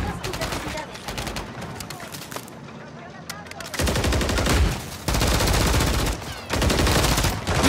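Automatic and single-shot gunfire crackles in a Call of Duty firefight, sharp bursts coming in clusters with brief lulls between, while voices call out over the shooting.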